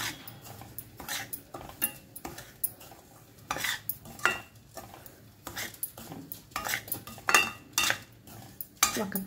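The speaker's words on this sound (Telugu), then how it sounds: "ఇది ఆల్రెడీ రోస్టెడ్ అయినా కూడా మనం చక్కగా నేతిలో వేయించుకున్నామంటే కేసరి బాగుంటుందండి" Semolina (rava) roasting in ghee for kesari, stirred with a metal spoon that scrapes and clinks against the pan in irregular bursts over a low background, with no talking.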